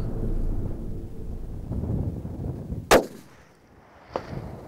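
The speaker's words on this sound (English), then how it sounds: "did he just shoot over that stag's back? Yes, I did." A single rifle shot fired at a stag during a hunt in Patagonia rings out as one sharp, loud crack midway through. It sits over steady wind rumble, with a fainter, brief crack-like echo about a second later.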